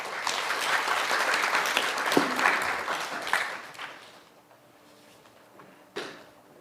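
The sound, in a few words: audience applause after lecture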